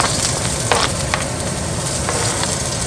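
Garlic hits smoking-hot oil in a stir-fry pan for tofu and peppers, giving a steady, close sizzle and crackle with a few sharp pops throughout.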